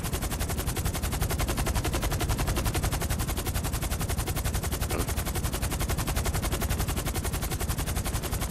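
Sustained rapid automatic gunfire in GTA V Online, aimed at an edge to break something open, a dense steady stream of loud close shots running unbroken from start to end.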